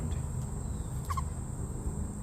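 A pet chick called Stormy gives a brief, soft two-note chirp over a steady background hum, a single quick inquisitive call heard close but quiet.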